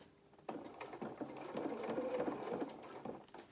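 A sewing machine runs in a close, steady whirring burst with a rapid needle patter as it stitches the lining of a small opera coat, starting abruptly and easing off near the end.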